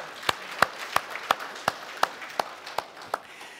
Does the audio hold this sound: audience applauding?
yes